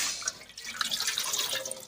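A little water is poured into a pot to start a sugar syrup, a close, brief splashing trickle with bright droplet sounds lasting under two seconds.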